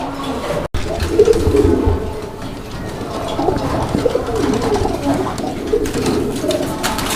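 Pigeons coo continuously at a pigeon market where paired Lahori, Bombay and colored fancy breeds are sold, a dense layered murmur of many birds close by with no talk over it.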